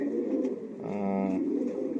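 A male racing pigeon from a young-bird racing line gives one close, mellow cooing phrase, rolling for about half a second over a low background hum.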